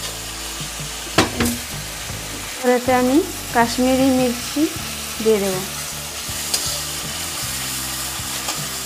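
Spices with a splash of water sizzle and fry steadily in a pan for a rui fish curry, a constant close crackle with occasional stirring scrapes while someone talks over it.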